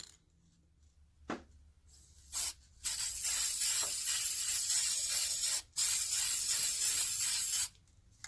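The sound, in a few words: spraying sealer onto glass candle holders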